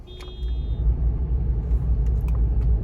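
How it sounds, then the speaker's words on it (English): A Jeep Wrangler drives along with a steady low engine and road rumble, close and continuous, with a few faint clicks early on. "I'm gonna start driving."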